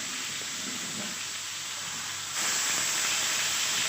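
Turkey laid face down into a pan of hot ghee sears with a steady, loud sizzle and hiss that grows stronger partway through, continuous and close with no talking.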